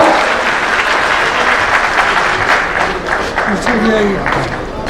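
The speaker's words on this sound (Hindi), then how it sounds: "जोरदार तालियां।" Loud, sustained applause fills a hall at a crime prevention committee's annual convention, a crowd clapping densely and evenly throughout with some voices mixed in.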